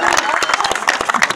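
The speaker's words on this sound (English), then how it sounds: "how about a nice round of applause for the real stars in the show" Loud, dense clapping from a crowd at a fair joust, fast and uneven, close and filling the whole moment.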